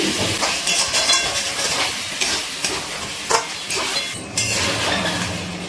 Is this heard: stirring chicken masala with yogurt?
yes